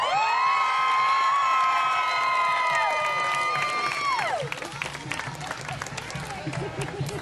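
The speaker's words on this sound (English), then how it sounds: "as he ran to the stage, The crowd went wild." A crowd cheers and shouts at a show as someone runs to the stage, a loud sustained roar with a long high whoop that falls away, then scattered clapping and shouts carry on.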